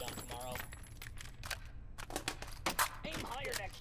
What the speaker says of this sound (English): now that they actually hear gunfire, they'll probably come after me